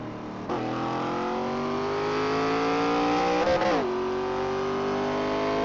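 Race cars in an ARCA racing video game accelerate off a restart at the Brickyard, a loud continuous engine roar climbing steadily in pitch through the gears, with a brief shift and a second car's drone underneath.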